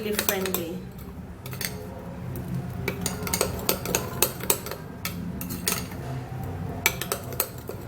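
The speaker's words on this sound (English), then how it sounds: "Now we're going to give this a nice stir" A spoon stirs a glycerin and rose water facial mix in a bowl, giving a run of light, irregular clinks and taps against the dish over a steady low background.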